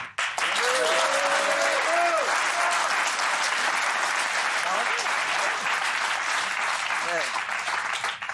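Studio audience on a television talk show breaking into loud, sustained applause, a dense wash of clapping that fills the whole stretch while voices talk over it.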